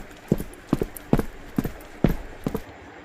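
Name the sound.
fast footsteps sound effect in a horror story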